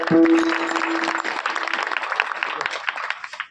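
A kirtan audience gives dense, enthusiastic applause for the singers and musicians, many hands clapping close and loud before thinning out and fading, with a held note and some voices at the start.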